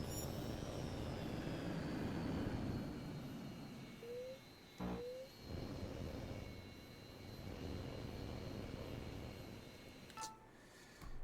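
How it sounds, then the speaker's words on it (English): A steady airplane engine drone from an AWACS patrol plane in the flight game Tom Clancy's H.A.W.X 2 fills the whole stretch, loud and continuous, with a couple of brief electronic beeps cutting through. "There's an AWACS plane flying a basic patrol circuit in the training area"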